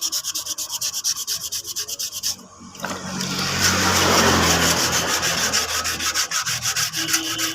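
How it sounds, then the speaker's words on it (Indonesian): Dried body filler on a Yamaha Vixion motorcycle body panel is sanded by hand with steady, rhythmic back-and-forth rasping strokes, close and loud. A short pause follows, then a denser, continuous scrubbing. "Ini kita ratakan penggosokannya seperti ini. Nah, kita gosok seperti ini sampai halus."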